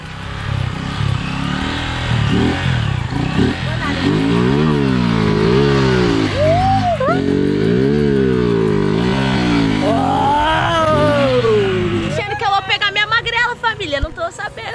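Honda Titan 150 motorcycle engine revving hard during a wheelie, its pitch rising and falling in repeated swells up close, with people talking over the engine noise.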